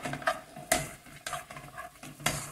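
A utensil scrapes and stirs peanut praline in a pan as the sugar crystallizes, with repeated rasping strokes against the pan and a faint sizzle underneath, close and steady with no talking.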